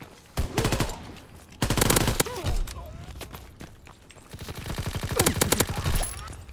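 Automatic gunfire in a Call of Duty: World War 2 gun game match, loud rapid bursts of machine-gun and rifle fire in several volleys, with talk over and between them.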